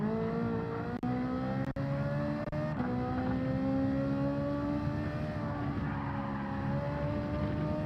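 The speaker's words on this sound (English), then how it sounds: "On the brakes too late." A race car in Gran Turismo 7 during daily race practice, braking hard and late into a corner: a steady, loud engine drone with tires skidding and squealing throughout, a few brief clicks, and no voices.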